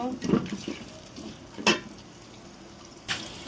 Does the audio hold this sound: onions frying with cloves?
yes